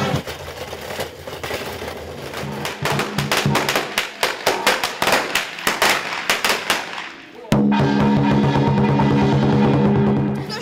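A rapid string of sharp firecracker bangs crackles loudly for several seconds at a Vietnamese New Year (Tết) celebration in Sainte-Livrade-sur-Lot, France, then gives way to a steady roar of noise.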